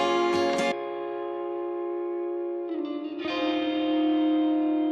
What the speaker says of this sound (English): I love spring reverb for this sound.